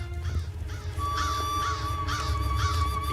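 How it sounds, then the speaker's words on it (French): A flock of crows caws in an animated cartoon about a Sioux boy, the harsh calls repeating in uneven bursts over a low, steady musical drone. "C'est bizarre, tous ces corbeaux réunis."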